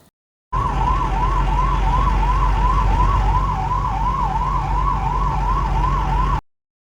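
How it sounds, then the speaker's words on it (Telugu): A siren wails steadily in quick, even up-and-down cycles over a low engine rumble, loud and continuous, then cuts off. "మేమైతే కొంచెం సైరన్ అయితే వేసినాము"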